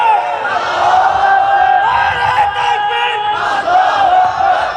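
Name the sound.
crowd chanting takbir (Allahu Akbar) at a religious gathering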